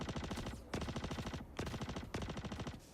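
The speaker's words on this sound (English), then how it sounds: "There's gunfire. This is under the floor." Rapid automatic gunfire from beneath the floor in the Star Citizen video game rattles in three sustained bursts with brief gaps, dense and steady.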